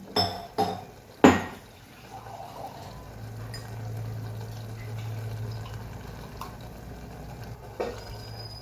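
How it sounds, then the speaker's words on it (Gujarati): Water is added to a pot of chori batata shaak, a potato and cowpea curry, after a few sharp clanks of utensils, followed by a soft, steady pouring sound lasting a few seconds. "પાણીની જરૂર છે એડ કરીએ"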